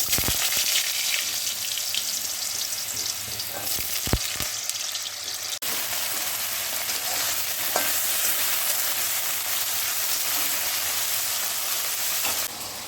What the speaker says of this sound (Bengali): তাই এটাকে আগে আমি অল্প তেলের মধ্যে ভেজে নেব